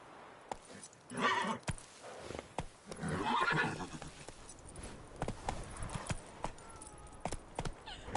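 Roach, a horse in The Witcher 3, lets out two loud whinnies early on, then sharp hoofbeats clatter in an irregular galloping patter, faint and close.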